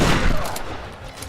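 Gunfire in the Tomb Raider video game, a loud, close burst of shots in quick succession that fades over about a second.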